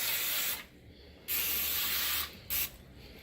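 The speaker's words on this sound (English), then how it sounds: "we're going to spray them a little bit with some cooking oil" Cooking oil spray hissing onto frozen burger patties in a short burst, then a longer spray, a pause and a quick final spritz, all close and fairly loud with no talking.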